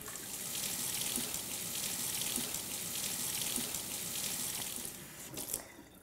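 Tap water runs steadily from a faucet into a sink for a hot water bath to loosen homemade popsicles from their molds, a continuous close splashing rush that tapers off near the end.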